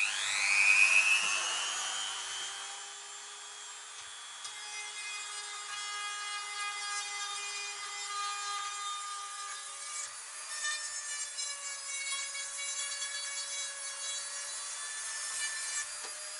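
A grinding stone shaves down the plastic ribs of a motorcycle heated grip, producing a steady, high-pitched rotary whine with a slight rub. It runs alone and fairly close for the whole stretch, with small shifts in pitch as pressure changes.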